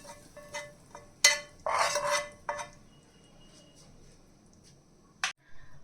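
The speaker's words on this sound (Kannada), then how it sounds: "ಏನು ಒಗ್ಗರಣೆ ಮಾಡ್ಕೊಂಡಿದ್ವಿ ಅದನ್ನ ನಾನು ಸಾಂಬಾರಿಗೆ ಮಿಕ್ಸ್ ಮಾಡ್ತಾ ಇದ್ದೀನಿ" A spoon scrapes and stirs freshly made tempering into a pot of vegetable sambar, giving a handful of short, sharp rasping strokes separated by quiet gaps.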